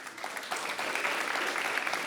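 Audience clapping at a French talk-show style public event, a steady mid-level patter of many hands lasting a couple of seconds without voices over it.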